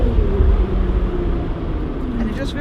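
A Lotus sports car accelerating at half throttle, with a steady engine drone and road rumble heard from inside the cabin, the pitch slowly shifting.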